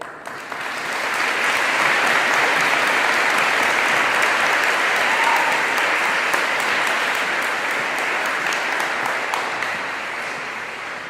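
Audience applause for Navy Junior ROTC cadets at a Pearl Harbor observance in a high school, steady and loud, sustained for about ten seconds before tapering slightly.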